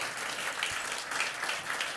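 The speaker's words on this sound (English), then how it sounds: "Give her a warm round of applause." Warm audience applause in a conference room during a sustainability panel session, a dense, even wash of many hands clapping continuously at moderate loudness with no pauses.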